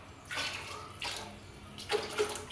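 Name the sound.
pouring water into pot of coconut milk rice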